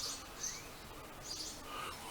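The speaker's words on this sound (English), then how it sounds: "Got one neighbor here that's got a bird feeder out and has all kinds of birds coming around." Small birds chirp around a backyard bird feeder, a few short, faint tweets scattered over quiet outdoor background.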